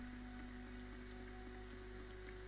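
Light rain falls in the video game Morrowind, a faint, steady hiss of patter over a constant low hum, with no voices.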